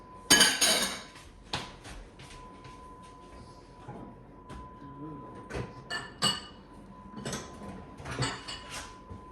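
Bowls and dishes are handled in a home kitchen, with clinks and clatters of crockery knocking together in scattered bursts, a loud cluster at the start, amid quiet room noise and brief talk.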